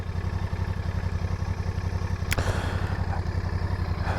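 Royal Enfield Bear 650 motorcycle being ridden, its engine putting out a steady, pulsing low throb that stays loud and close throughout, with a brief clattery burst partway through.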